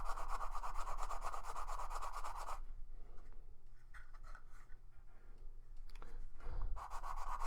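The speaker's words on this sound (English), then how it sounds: "Actually holding the end I want to sand. Again, I'm going to do that gently." Gentle sanding on the end of a scratch-built box, a steady close rubbing that runs for a few seconds, drops away to quiet handling noises, then resumes near the end.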